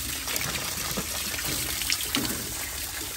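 Water runs steadily from a tap and overflows a container, a constant close splashing and trickling wash with no speech.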